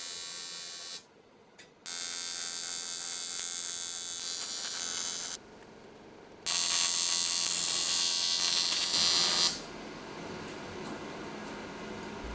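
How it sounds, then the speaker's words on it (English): Welding aluminium tabs and sides of a cargo bike basket: a steady buzzing, crackling arc in several bursts of a few seconds each, separated by short quiet gaps, with the loudest stretch in the middle and no talking. "Once the position is right, I can tack the tabs in place and then weld everything together"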